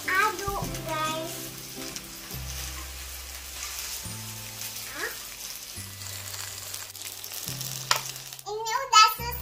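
Nasi goreng seasoned with salt and mushroom stock is stirred in a hot pan, a soft ongoing sizzle and scraping under looping background music, with a voice briefly near the end.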